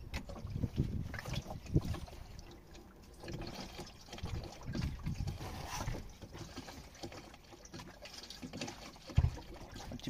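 Diesel fuel is poured by hand, without a funnel, into the tank of a Vevor 5kW diesel heater, with close, irregular gurgling and splashing at low volume and no voices.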